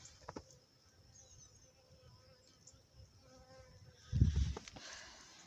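Faint buzzing of honeybees flying about outdoors at an apiary in cold early-April weather, with a brief louder rustle or bump near the end.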